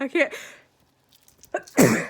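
A single sharp sneeze near the end, preceded by a brief spoken phrase and a short quiet gap, close and loud.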